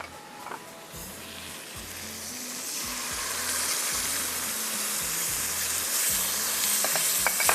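A pan sizzles steadily after half a cup of yogurt goes in, a dense continuous frying hiss that grows slightly louder and keeps going throughout, with a faint rhythmic low hum beneath.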